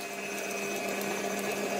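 A KitchenAid stand mixer runs at a steady whir as it kneads sticky jelly donut dough, with a continuous motor hum and a faint rhythmic knocking, close by and with no talking.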